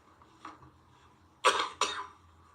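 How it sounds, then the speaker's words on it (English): A faint throat sound, then two loud, harsh coughs in quick succession close to the listener. "excuse my cough here."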